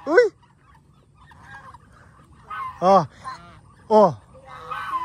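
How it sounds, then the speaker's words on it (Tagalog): Ducks on a farm in Guimba, Nueva Ecija give several loud honking quacks, singly and spaced apart, over quiet outdoor background with faint voices. "Ducks are eating."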